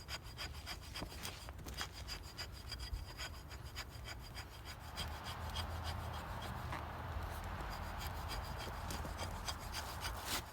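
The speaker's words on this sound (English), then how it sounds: "I actually found pulling was more effective than pushing to get these shavings." The spine of a large survival knife is pulled along wood to scrape off shavings, making repeated rasping strokes that are faint but steady, close up with no talk.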